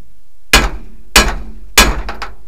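A hammer strikes the ears of a U-joint yoke to knock the rust loose: three sharp, ringing metallic blows about half a second apart, close and loud, with no talking.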